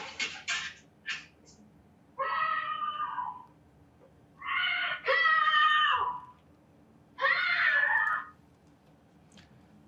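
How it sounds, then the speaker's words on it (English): A woman screaming for help, captured by a doorbell camera: a few short sharp cries at first, then three long drawn-out wailing screams with pauses between, loud against a quiet background. "she goes running down the street screaming for help"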